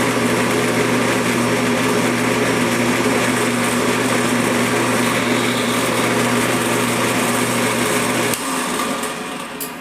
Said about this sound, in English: turn your drill press on high speed.